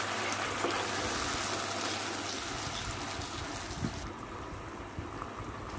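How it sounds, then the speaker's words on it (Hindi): Water poured into a pan of honey chilli potato sauce makes a continuous hissing, trickling rush that thins out near the end, with no one speaking. "अब हमने इसमें पानी डाल दिया, हमने थोड़ा पानी डालने के बाद इसको मिक्स कर देंगे अच्छे से।"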